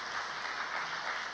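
A church congregation at a Sunday service gives a brief, steady round of applause, a dense wash of many hands clapping at a moderate distance.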